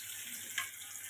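Chopped onions fry and brown in oil as the base for a Bengali prawn bhuna, giving a steady bright sizzle with one brief louder crackle midway. The sizzle continues without talk.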